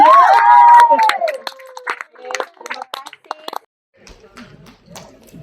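At a live concert in Kuala Lumpur, a crowd gives a short burst of scattered clapping and cheering, mixed with a voice at first, then fading out into near silence.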